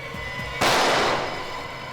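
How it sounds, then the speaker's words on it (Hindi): A single loud gunshot cracks out nearby at a man, a sharp broadband burst that decays over about a second above a low background hum, with no talk during the shot. "सर किसी ने मुझ पर गोली चलाई सर।"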